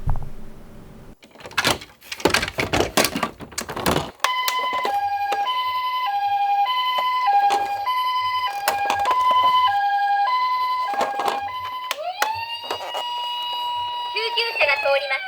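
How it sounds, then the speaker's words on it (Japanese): A toy ambulance siren from a miniature emergency vehicle sounds in a steady repeating two-tone wail, loud and near, following a few sharp clatters at the start and sliding into a rising tone near the end. "救急車が通ります。 道を開けてください。"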